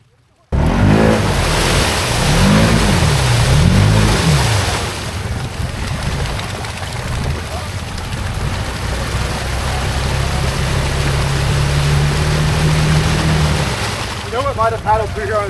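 A Can-Am XMR ATV revs hard through a clay mud hole, its engine surging in rising and falling waves, then settling into a steady loud drone, with brief talk near the end.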